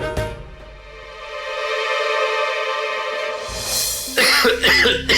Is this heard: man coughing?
yes